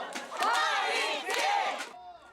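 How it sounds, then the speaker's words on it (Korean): Supporters cheer from the stands at a Jeonnam versus Gyeongbuk football match in Mokpo, loud rhythmic shouting in two big bursts before trailing off. "관중석에서는 경기 시작부터 뜨거운 응원이 이어집니다."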